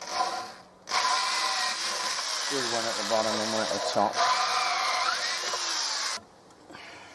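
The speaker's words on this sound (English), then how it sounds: "So I think I will drill a hole in there for that" A power drill bores holes into the wooden side rails of an outdoor bench, its steady whine running for several seconds with a brief pitch change mid-way. Someone speaks briefly near the start.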